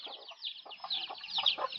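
Hens and small chicks raised together, with bright, high peeping from the chicks over soft, short clucks from the hens, a busy, close chatter of overlapping calls.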